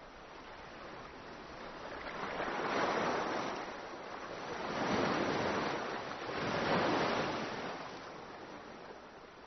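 Sea waves surge and wash in three slow swells, a soft hissing roar rising and fading with no voices.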